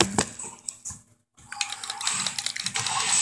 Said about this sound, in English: I'm over here clicking buttons like crazy!